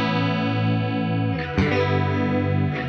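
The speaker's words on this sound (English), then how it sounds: "So this is the chorus." Electric guitar on the clean channel through a Blackstar amPlug2fly headphone amp with a heavy chorus effect, sustained shimmering chords swirling steadily, then a new strum partway through, with no talking.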